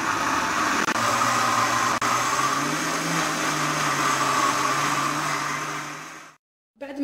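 An electric blender whirs steadily and loudly, mixing baghrir batter of semolina, flour and milk for about six seconds, then cuts off abruptly before briefly restarting.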